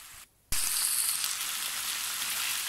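Chicken breast frying in a pan, a brief quiet gap then a sudden loud onset of steady hissing sizzle that stays bright and continuous up close.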